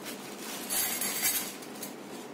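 Metal beater attachments for a G track electric hand mixer clink and rattle together as they are handled, a steady bright metallic jangle up close with no talking.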